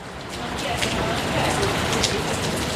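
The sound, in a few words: rain falling during storm in Topeka, Kansas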